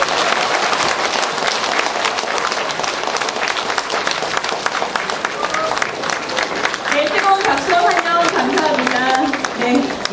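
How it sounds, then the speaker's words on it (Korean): Audience applause at a district office New Year greeting ceremony, dense steady clapping from a large crowd sustained throughout, with a voice speaking over it near the end. "큰 박수로 환영해 주십시오."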